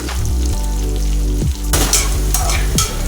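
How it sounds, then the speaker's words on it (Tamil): Onions with curry leaves fry in oil for egg biryani with a loud, continuous sizzle, while a spoon scrapes and stirs through the pan in several distinct bursts. "போட்டு நல்லா வணக்கி விடுங்க. வெங்காயம் நல்லா பொன்னிறமாக வரட்டும்."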